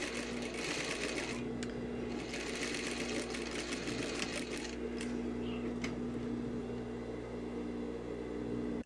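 A sewing machine stitches a dress lining seam, running in a steady whirring hum with fast rapid needle clatter, close by, pausing briefly near the middle before continuing to the end.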